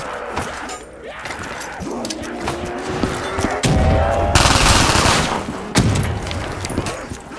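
Rapid automatic gunfire rattles in bursts from a Black Ops 3 custom Zombies match, with crashing impacts and a brief deep boom, loud and continuous throughout.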